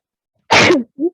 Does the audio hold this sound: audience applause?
no